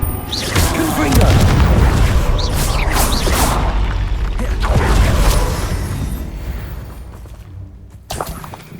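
Heavy booming blasts from the Confringo fire spell in Hogwarts Legacy, loud rumbling impacts with whooshing crackle that swell and fade over several seconds, with a further sharp hit near the end.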